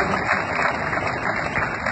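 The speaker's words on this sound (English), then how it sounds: "for the big round of applause" A radio and TV studio audience at a live evening event in Samoa breaks into dense, continuous applause, close and loud, with no talk over it.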